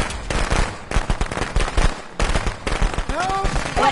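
Rapid gunfire bursts in the horror video game Friday the 13th, a dense run of shots over nearly four seconds with voices talking over them.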